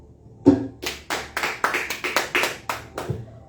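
A church congregation claps in praise, about a dozen distinct, fairly regular hand claps in a steady rhythm, close and clear with little else around them.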